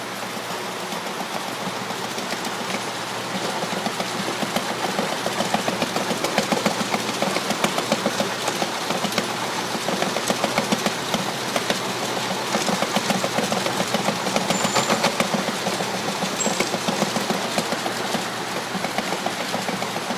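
A Compac fruit sorter machine running at Bentley Farms, a steady mechanical hum with fine rapid rhythmic clatter, continuous and even throughout.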